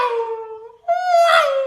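A voice imitates a Formula 1 race car passing by on a circuit: a rising nasal whine that dips briefly, then returns as a louder, brighter tone and falls away, alone and close.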